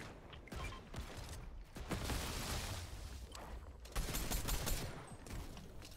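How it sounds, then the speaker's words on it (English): Rapid bursts of blue-gun fire in a Fortnite match, dense and crackling, coming in two long volleys with short gaps, fairly faint in the mix. "I'm using the blue gun on him"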